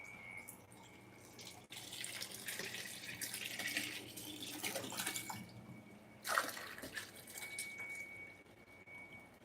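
Water splashing at an aquarium outflow in a fishroom, a steady trickling and splashing stream with a brief louder splash partway through, fairly quiet and heard alone.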